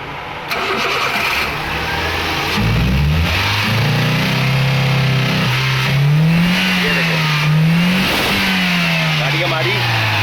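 A 2007 Toyota Xli sedan with a misfiring ignition coil cranks and starts, then revs up and down unevenly, the engine loud and close, with someone talking over it.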